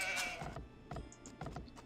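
Sheep bleat several times in Age of Empires, short nasal calls repeating in quick succession over a low game-ambience hum, fairly close and clear with no talk.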